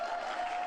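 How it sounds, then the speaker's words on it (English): A brief, steady wash of audience applause at a Joe Biden event, with an even crowd roar holding throughout and no distinct individual claps. "every time something happens and they're like laughing or clapping"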